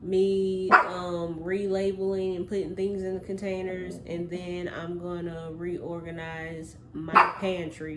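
Excitable pet dog barking repeatedly and yipping close by in a home pantry, the barks coming in quick bursts over a person talking steadily throughout.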